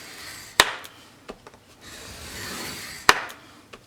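Two quick, sharp scoring strokes scrape across recycled binder board about two and a half seconds apart, with softer rubbing and handling noises in between. The scraping is close, quiet and has no talk over it.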